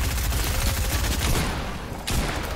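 Rapid automatic gunfire rattles through a video game in dense, unbroken bursts, loud and close, then briefly thins before resuming.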